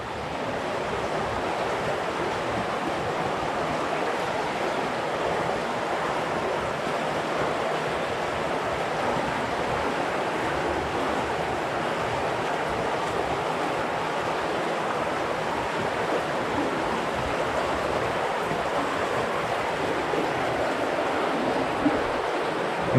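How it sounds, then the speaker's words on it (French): Water flowing steadily in a broad, continuous rush under a stone vault, echoing as if deep inside the earth, with no voices. "Je vous laisse apprécier également le bruit de l'eau avec cet écho"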